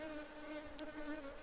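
Honey bees at a modern apiary in the early morning give off a steady, continuous buzz with a droning hum that holds even and close throughout.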